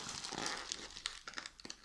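Close, quiet crinkling and rustling of plastic packaging from an AliExpress parcel of clips being handled and pulled open, with irregular crackles and a few sharp snaps.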